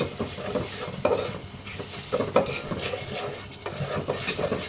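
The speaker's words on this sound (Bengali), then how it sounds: "কষাতে হবে সুন্দর করে" Rohu fish curry with mustard being stirred and sautéed in a pan, with a spatula scraping and clinking against the metal over a steady sizzle. The strokes come in uneven bursts and sound close, with no talking.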